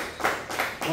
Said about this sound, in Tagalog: O, palakpak naman dyan.